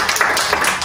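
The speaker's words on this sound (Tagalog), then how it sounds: "Isang palakpak muna po." A small church cell group claps together after a prayer, a short burst of close, bright hand claps with a few distinct beats.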